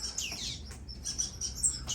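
Small seed-eating finches chirp and sing in an outdoor aviary on a farm, a series of bright high tweets and short calls repeating quickly at close range.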